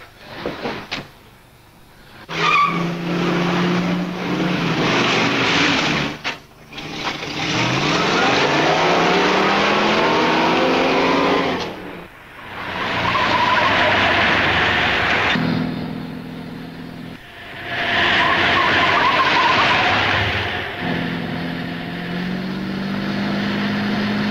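A car engine revs and accelerates in repeated surges, rising in pitch with each gear, separated by brief pauses and shifts.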